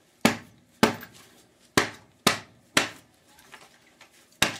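A hammer strikes a CRT television being scrapped, six sharp, heavy whacks at roughly half-second to one-second intervals, close and loud, each ringing off briefly, with no talk.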